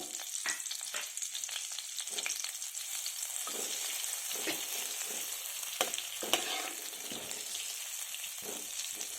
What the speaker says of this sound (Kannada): ಬಾಣಲೆ ಇಟ್ಟಿದ್ದೀನಿ ಈಗ ಬೆಣ್ಣೆ ಹಾಕ್ತೀನಿ